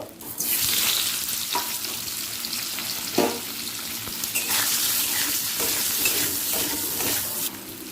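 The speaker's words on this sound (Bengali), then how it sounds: "সর্ষের তেল দিয়ে দিলাম" Potatoes frying in mustard oil in a kadai: a continuous, loud hissing sizzle runs throughout, punctuated by occasional stirring clatters.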